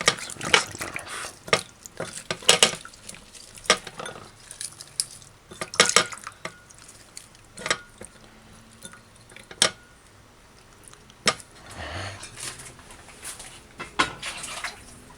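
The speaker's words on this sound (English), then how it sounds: "Just rinse them off." Veggie chunks rinsed under running water at a kitchen sink, with repeated splashes, sharp clinks of a bowl or utensils, and intermittent bursts of flowing water throughout.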